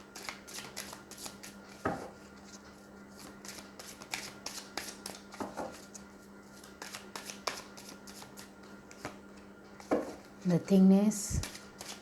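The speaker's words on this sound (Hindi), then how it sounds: "दूसरे डेक से भी पहले कार्ड निकालेंगे, फिर बाद में रीडिंग स्टार्ट करेंगे गाइस" Tarot cards are shuffled and drawn from a deck, with soft irregular flicks and slaps of card stock close by, a quiet voice speaking briefly near the end.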